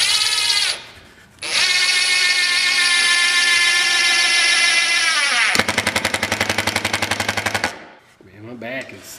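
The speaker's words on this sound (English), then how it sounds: "Take our handy dandy drill here, run a couple screws through the wood into the ceiling." A power drill whirs steadily for a few seconds, then chatters in a rapid ratcheting burst as a screw drives through wood into a ceiling, close by.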